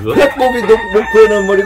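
A rooster crows loudly and close by, a long rising and falling call with several sustained tonal pulses, while people talk over it.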